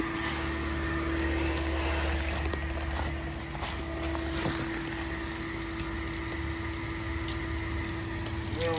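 A pressure washer sprays steady water while rinsing a large house, a continuous loud hiss layered over a low pump drone with a persistent tonal hum, running unbroken and close with no talk over it.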